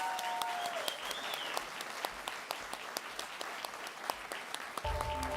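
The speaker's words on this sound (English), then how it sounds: "a rapturous round of applause for the winner of this award, Professor Scott Fisher" An audience applauds an award winner at an event: a steady, fairly faint wash of many hands clapping that continues throughout without a break.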